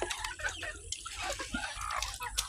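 Pet chickens clucking over mixed poultry feed, with brief scattered calls and some water-like dripping in the background; no talk heard.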